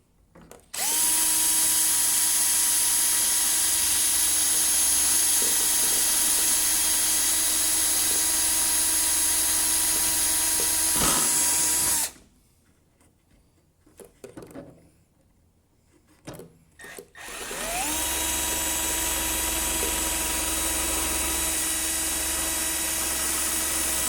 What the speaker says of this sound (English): we're going to go ahead and drill those holes out